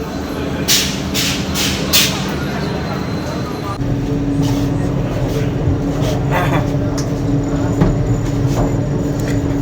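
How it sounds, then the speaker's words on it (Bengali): Steady low rumble of a Vande Bharat sleeper train rolling past Bandel Junction, continuous and fairly loud, with a brief burst of clatter early on and background voices throughout. "আমাদের ট্রেন ব্যান্ডেল জাংশন ছাড়িয়ে যাচ্ছে ঠিক 7:15"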